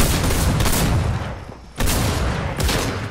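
Bursts of gunfire in a Fortnite match, loud and close, with a long sustained volley followed by a brief lull, then two more sharp bursts of shots.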